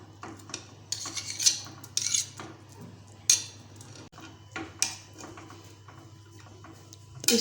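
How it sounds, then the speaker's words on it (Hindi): Boiled potatoes mashed into cooked chickpeas for Lahore-style chana chaat, a metal utensil clinking and scraping against a pot in irregular bursts, close and moderately loud, with no talking. "ये जो आलू हैं इनको भी हम मैश करके इनके अंदर मिक्स कर देंगे"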